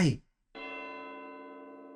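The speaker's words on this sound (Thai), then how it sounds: "เสียงเหมือนตีระฆังอะระฆังวัดหรือว่าเสียงมัน นาฬิกาบิ๊กเบนนาฬิกาใหญ่ครับ" A big clock bell chimes in the Incredibox video game's The Bells mod. One ringing strike follows a short bit of sound and a pause, then its rich tone hangs and slowly fades.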